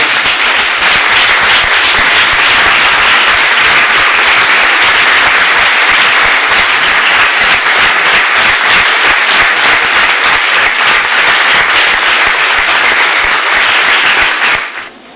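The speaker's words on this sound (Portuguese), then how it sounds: "Vamos saudar o Criador com mais uma linda salva de palmas" Church congregation applauding, a dense, loud and steady wash of many hands clapping that runs without pause for about fifteen seconds before stopping abruptly.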